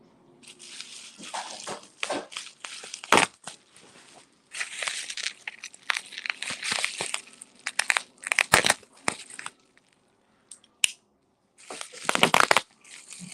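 Red painter's tape cut and peeled away from a mailed package, with bursts of close crinkling, crunching and tearing that come and go over several seconds, broken by short pauses.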